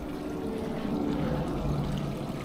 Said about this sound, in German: eine schöne kleine Brücke über einen leise vor sich hin plätschernden Bach